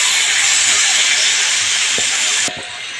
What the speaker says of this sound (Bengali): এবার আমি চিকেনটা ঢেলে দেব